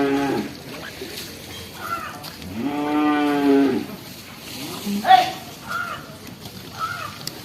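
Cattle at the Kollannur Sunday market low several times, one long moo in the middle standing out, while crows caw around them and voices murmur faintly in the background.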